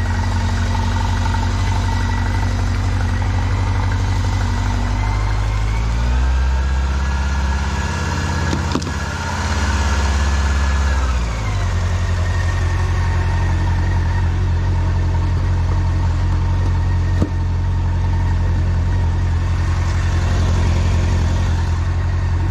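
A Honda Nighthawk 750 motorcycle engine running steadily up close, with a low, continuous drone that dips and rises in pitch midway as the revs change, loud and alone throughout.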